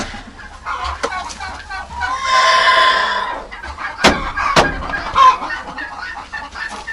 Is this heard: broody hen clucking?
yes